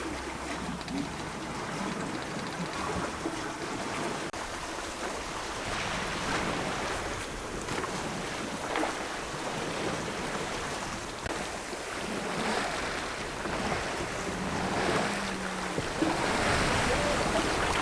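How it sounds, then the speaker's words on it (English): A cruising sailboat under a big cruising chute glides across open-ocean waves in light wind, giving a steady wash of water and breeze with soft wind buffeting the microphone, and no voices. "Just gliding off the waves with a big cruising chute and feeling super comfy, doing a great speed"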